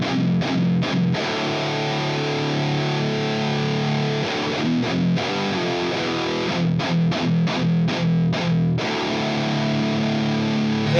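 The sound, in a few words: headless electric guitar played with delay effect on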